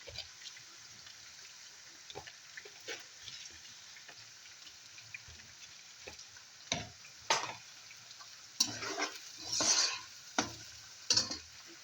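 Peanuts and sliced garlic browning in a wok with a spoon, giving a steady low sizzle with occasional stirring scrapes and clatters that grow louder and more frequent toward the end; no voices.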